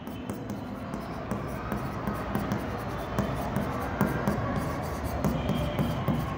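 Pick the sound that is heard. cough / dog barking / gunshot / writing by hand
writing by hand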